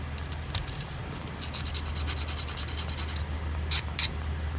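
A hand file rasps in short, quick strokes along sheared sheet-metal edges to remove burrs, close and fairly quiet over a steady low hum, with a pause and then two final strokes.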